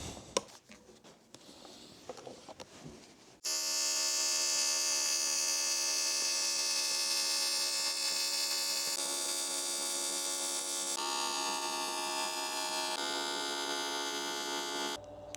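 A steady electric buzz with a strong tonal hum from aluminium welding along a jet boat hull starts abruptly after a few seconds of quiet clatter and runs on loud and continuous.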